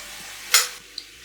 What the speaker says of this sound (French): Je fais vraiment revenir la viande jusqu'à la cuisson presque, jusqu'à ce qu'elle change de couleur